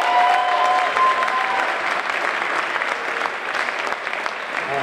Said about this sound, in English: Get a big round of applause for these very fine musicians.